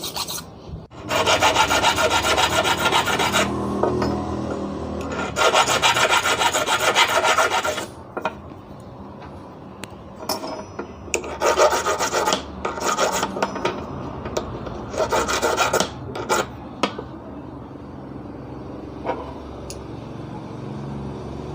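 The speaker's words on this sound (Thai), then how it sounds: "เมื่อตะไบเสร็จแล้วนะครับ" A hand file rasps against metal while a ground wire is installed, in several bursts of steady back-and-forth strokes, loud and close, with pauses and scattered clicks and knocks between.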